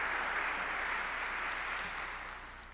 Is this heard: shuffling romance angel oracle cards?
no